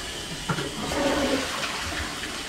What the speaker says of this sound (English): It's not even flushing. I think we have a blockage.